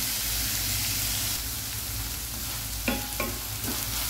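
Onions fry on a high flame for a malai methi matar gravy, a steady close sizzle and hiss with a few clinks and scrapes of stirring near the end.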